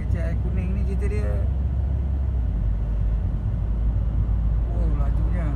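A car drives fast with a constant low road rumble and engine drone under continuous conversation from people inside.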